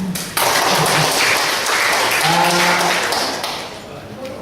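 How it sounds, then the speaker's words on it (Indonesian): Audience applause at a small Indonesian workshop on turning waste into saleable products, a short burst of clapping starting abruptly and carrying on at steady, fairly close volume with some voices mixed in. "Boleh tepuk tangannya dong."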